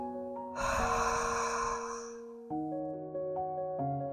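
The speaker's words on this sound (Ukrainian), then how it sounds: "і видих ротом із протяжним звуком" A long, audible breath out through the mouth during an evening gratitude meditation, a soft airy rush lasting about a second and a half over sustained calm background music tones.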